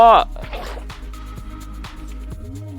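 A bucket scoops water in Minecraft with a short, close liquid splash and dripping squish, followed by quiet background sounds while a voice talks.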